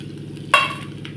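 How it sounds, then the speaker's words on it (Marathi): Chopped garlic goes into hot ghee with crushed ginger for a dal fry tempering. One sudden, sharp sizzle bursts up and fades within about half a second over a low background hum. "तूप हे आपलं गरम झालेलं आहे त्याच्यात घालते मी लसूणच्या पाकळ्या"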